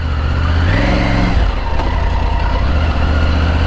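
A Triumph Tiger 900 BS6 motorcycle pulling away, its engine note rising through revs and gears, loud and close with steady wind and road noise and no talk.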